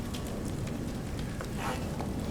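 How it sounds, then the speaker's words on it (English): Acid rain storm in a video game, heard as a steady, dense hiss of falling rain with scattered droplet patters, continuous and fairly loud throughout. "storm, there's acid rain."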